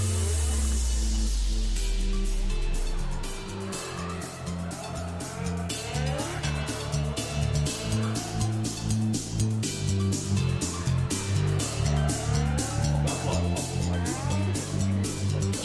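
A drift car revs hard through a qualifying run at an RDS GP round in Ryazan, its engine note climbing and falling in steps while broadband tire and exhaust noise fill the space, loud and continuous.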